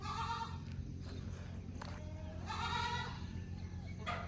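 Goats bleat repeatedly at feeding time on a farm, several overlapping calls rising and falling over a steady background murmur.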